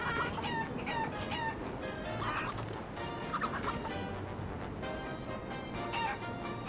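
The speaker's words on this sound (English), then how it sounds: "heard that chicken sound somewhere before" Chickens cluck and crow repeatedly in the game Wallace & Gromit's Grand Adventures, the fowl sounds loud and constant over a busy backdrop of other game noise.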